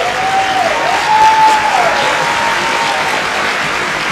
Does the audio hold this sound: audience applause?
yes